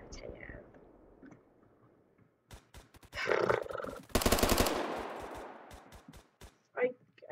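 Gunfire in the video game Phantom Forces during a team deathmatch on Crane Site, rapid bursts of shots and clicks building to a dense loud stretch midway, with quiet whispered talk around it.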